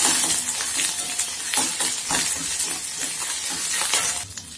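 Green chillies and ginger sizzle and fry in a pan, with steady crackling and occasional stirring clinks, close and fairly loud.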